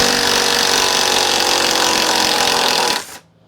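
A Makita impact driver fitted with an impact socket backs a fastener out in a loud, dense, continuous hammering burst lasting about three seconds, then stops abruptly.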